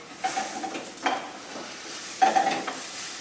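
Vegetables with onions, garlic, salt and pepper sautéing in a pan, a steady sizzle broken by a few soft stirring scrapes heard close up.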